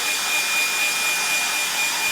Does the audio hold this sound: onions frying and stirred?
no